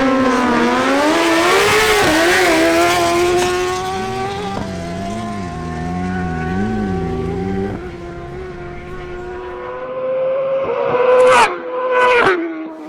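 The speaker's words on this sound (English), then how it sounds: "Andres Camargo and Edward Manzano on their Suzuki GSX-R1000's face-off." Suzuki GSX-R1000 motorcycles at a drag race, a loud wailing engine note climbing and shifting through gears, fading to a quieter drone with a couple of sharp bursts near the end.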